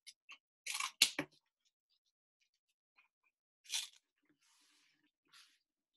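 Scissors trim the handle of a handmade hand puppet, giving a few sharp crunching snips clustered close together, then scattered fainter cuts and rustles with pauses between.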